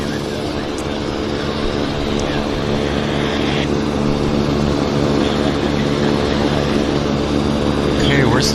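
At Vancouver airport, a WestJet airliner's engines give a loud, steady, low roar with a constant hum that holds throughout and swells slightly toward the end.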